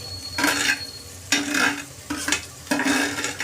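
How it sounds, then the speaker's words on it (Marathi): Onion goes into a pan of frying ginger-garlic paste for a Bhandari-style mutton curry, and four bursts of stirring and sizzling come in even intervals at close range. "मग कांदा घालायचा आहे. कांदा आणि टोमॅटो"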